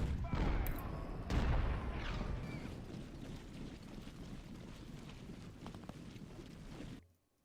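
Civil War ironclads fire in Ultimate General: Civil War, giving distant booming gunfire over a rumbling battlefield wash, with one louder blast early before the din fades out.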